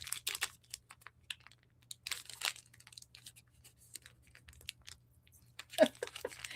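Crinkling and tearing of a small tea latte powder packet being opened, quiet scattered crackles and rips with a faint steady hum behind.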